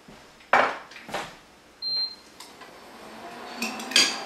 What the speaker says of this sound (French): Alors, on bat les œufs.